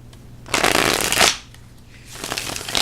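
Thick cardstock Halloween tarot cards being shuffled up close: two dense papery riffle bursts, the first long and crisp, then a short lull and a second shuffle starting.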